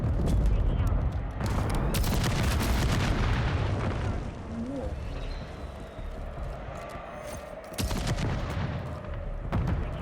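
Swarm killstreak drones exploding in Modern Warfare 3, a dense run of booms and crackling blasts with heavy low rumble filling most of the stretch, loud and continuous with a brief lull, under someone talking.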